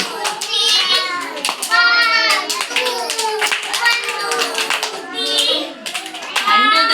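Children in a classroom clap along in rhythm during a lesson, their sharp claps steady and close while young voices chant and talk over them throughout.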